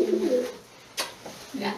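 Doves coo nearby, a couple of low soft calls separated by a short pause and a brief noise.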